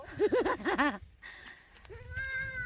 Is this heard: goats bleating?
yes